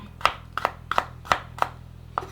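A knife chops garlic and coriander root on a board, six crisp, evenly spaced cuts ringing out close by over a low steady background hum.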